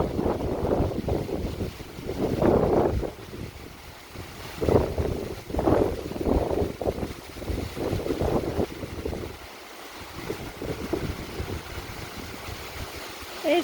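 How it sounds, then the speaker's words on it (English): Strong wind gusting at a lakeside where baby ducklings are trying to climb back into the water, buffeting the microphone in loud rumbling surges that rise and fall throughout. "It's very windy today."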